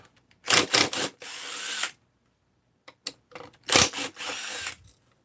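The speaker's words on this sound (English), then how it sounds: "Let's take the ignition coil off." Mechanical clicks, ratcheting and short tool bursts come up close while an ignition coil is unbolted from a motorcycle, in two busy clusters with a quiet gap between, no voices.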